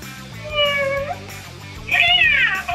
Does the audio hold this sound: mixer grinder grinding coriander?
no